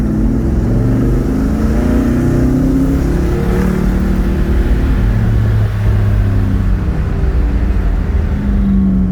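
A 1967 Oldsmobile Cutlass on a test drive, its engine droning steadily and loudly from inside the car, with low rumbling road and motor noise throughout and no talking.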